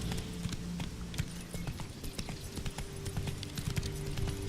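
Roach the horse gallops in The Witcher 3, hooves beating a quick, steady clip-clop rhythm that carries on without pause over low background game sound.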